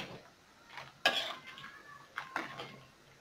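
A utensil stirs beef tongue soup in a pot, giving a few sharp clinks and scrapes against the metal between soft sloshing, close and fairly quiet.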